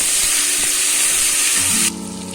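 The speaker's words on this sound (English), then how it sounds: "add 1 full tablespoon of ginger garlic paste and mix it well. Saute it for 15 seconds" Ginger garlic paste sizzles in hot oil with browned onions in a pan for Hyderabadi mutton biryani, a loud steady frying hiss that cuts down sharply near the end.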